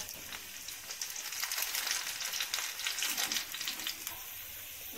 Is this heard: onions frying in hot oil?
yes